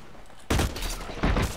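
Gunfire in the shooter game Blacklight Retribution: two loud, close bursts of rapid shots, the second starting about three quarters of a second after the first, with no talk over them.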